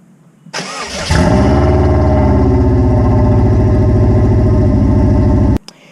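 A car engine running with a broken catalytic converter cranks, then fires into a loud, raspy, steady idle close by before cutting off abruptly.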